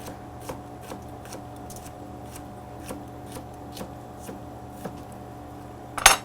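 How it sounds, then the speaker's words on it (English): A knife cuts okra in half on a board, making soft, regular taps and clicks about every half second, ending in a louder, sharper knock near the end; no one speaks. "I'm going to go ahead and cut some of this okra in half"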